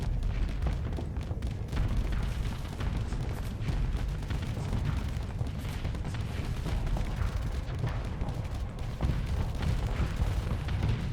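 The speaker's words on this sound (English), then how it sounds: "those missiles just popping before they reach the target" Missiles bursting short of their target in a Starsector space fleet battle: a dense, continuous barrage of booming, crackling detonations layered over a heavy low rumble, loud and unbroken throughout.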